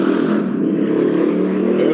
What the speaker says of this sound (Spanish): Pasó una moto con todo ahí.